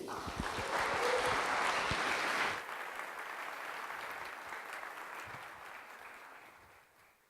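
Audience applause for speaker Amy Nicholson at a product management talk: dense, loud clapping for about two and a half seconds, then thinning into softer scattered claps that fade out.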